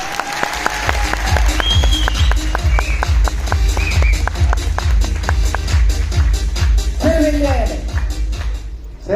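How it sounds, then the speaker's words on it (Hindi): Lecture audience clapping in a hall, a steady dense burst of applause that holds loud for the whole stretch, with a few voices and whistles rising over it. "एक बार फिर ताली बजा दो इसी बात पे।"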